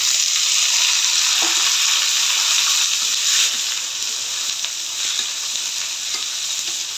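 Taro and onion frying in a pan with spices as they are stirred, a loud, steady sizzle with scraping stirs running throughout and no voices.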